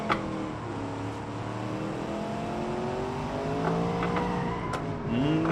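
Racing car in a driving video game, with hard braking into a turn: a sustained engine note sliding downward in pitch as speed drops, with faint tire noise and a brief rise in revs at the end.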